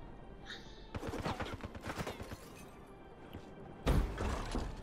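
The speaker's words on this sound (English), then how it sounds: "Who the hell is shooting at me?" Rapid automatic gunfire in the Black Ops 3 capture-the-flag multiplayer game, a sustained burst of close, crackling shots followed by a brief lull and a louder, heavier blast near the end.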